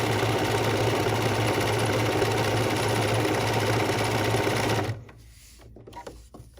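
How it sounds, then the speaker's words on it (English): A sewing machine runs steadily, stitching a serpentine stitch on a fabric ornament with a fast, even mechanical rattle and hum, close and loud for about five seconds before stopping, followed by faint handling sounds. "now I'm going to go right down the middle of that serpentine stitch."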